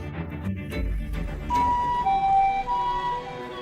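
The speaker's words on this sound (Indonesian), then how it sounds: "aku sudah memanggilkan ambulans untukmu" An ambulance siren sounds alone with no talk, its tone rising and holding steady at moderate loudness after a few faint knocks and a low rumble at the start.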